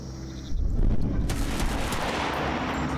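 A video game weapon being fired, a loud dense blast of gunfire kicking in after a brief quiet moment and rumbling on with a heavy low-end roar.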